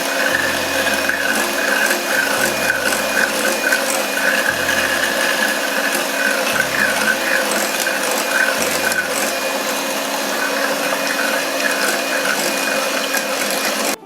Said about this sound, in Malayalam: അതിൽ ഓരോന്നായിട്ടിട്ട് ഒന്ന് ബീറ്റ് ചെയ്തെടുക്കാം.